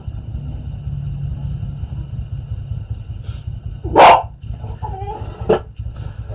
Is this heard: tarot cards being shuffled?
no